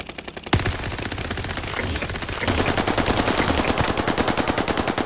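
Sustained rapid automatic gunfire in the video game Call of Duty: Modern Warfare, a dense, steady rattle of shots running the whole time, close and loud.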